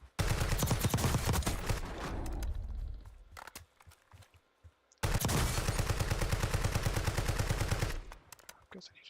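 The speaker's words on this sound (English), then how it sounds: "I'm guessing he just got sniped by somebody." Automatic gunfire rattles in Call of Duty: Warzone as two long, loud bursts of rapid shots separated by a quieter gap with scattered single reports.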